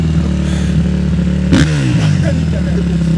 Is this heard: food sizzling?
no